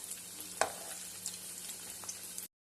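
Masal vadai (paruppu vada) frying in hot oil, a steady soft sizzle with a sharp clink near the start as they are turned over, then a few lighter taps.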